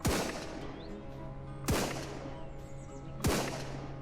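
Three sharp gunshots in the game Surroundead ring out about every second and a half, each with a crisp crack and a short echoing tail over a steady hum.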